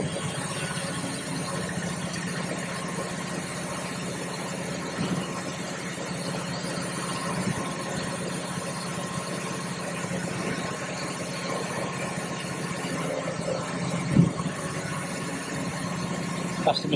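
A Caterpillar D6 bulldozer fitted with a laser system idles steadily on a site at Market Harborough while its blade valves calibrate, a close, even diesel drone with a faint whine and a brief knock near the end.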